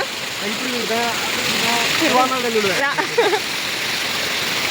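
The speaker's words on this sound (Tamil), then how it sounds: "தண்ணி செம ரவுண்டாக ஊற்றுது" Steady rushing roar of a waterfall pouring water fills the whole clip, with voices talking over it.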